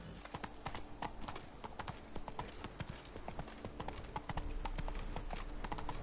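Galloping horse hooves in The Witcher 3 video game, a fast steady clip-clop pounding on and on near and loud, with a brief whinny mixed in and no talk.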